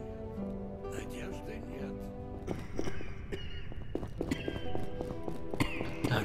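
Rhythmic hoofbeats of a horse in The Witcher clop along over a layer of game music and effects, steady and fairly close, with a few brighter tones cutting in.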